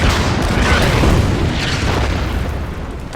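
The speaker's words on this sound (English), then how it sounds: "We could spend one turn firing on this guy just to stop his advance." Sustained booming rumble of artillery fire in the turn-based strategy game Order of Battle: Winter War, set at Suomussalmi; dense, loud and continuous, with no distinct separate shots.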